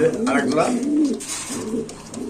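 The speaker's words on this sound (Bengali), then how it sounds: "এটা সাদা বিউটি কবুতর একদম টপ কোয়ালিটি" White beauty pigeons of top quality cooing softly in a loft, a low throaty warble repeating through the moment with someone talking over it.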